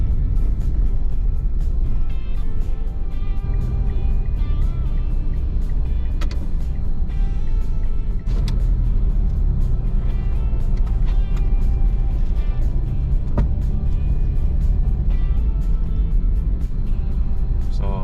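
Road traffic on the widened five-lane SLEX highway, a dense continuous roar of passing cars with scattered higher clicks and hums, loud and unbroken throughout, no talking.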